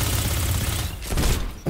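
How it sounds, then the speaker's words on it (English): A machine gun fires a dense, loud burst in the shooter game Destiny 2. The rattle runs almost without a break and dips for a moment near the end. "So bad on the machine gun."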